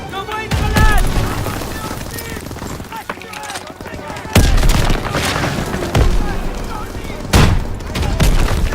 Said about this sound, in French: J'envoie une grenade.